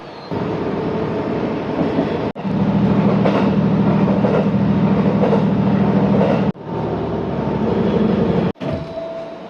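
Inside a moving train between Sendai and Ishinomaki, Japan: a steady rumbling hum with rhythmic rail clatter, broken by a few brief cuts, no voices.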